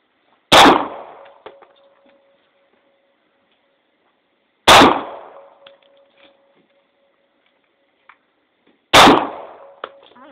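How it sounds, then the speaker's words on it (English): Three loud gunshots at an outdoor shooting range, evenly spaced about four seconds apart, each a sharp crack with a short ringing decay and faint clatter in between. "I don't even know where I'm shooting at."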